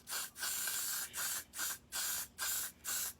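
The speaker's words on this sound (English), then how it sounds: "it's spray, it's aerosol" Aerosol hair-holding spray sprayed onto a wig in six short bursts, each a steady close hiss of about a third of a second with brief gaps between, no voices.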